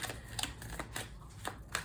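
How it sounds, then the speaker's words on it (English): Tarot cards being shuffled by hand during a personal reading, giving a run of soft, close riffling and slapping bursts at an irregular rhythm, with no talking. "So I do a lot of shuffling."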